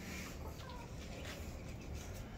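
Faint peeping and clucking from a Mapuche hen's newly hatched chicks in Chile, soft scattered calls under a noisy, muffled background.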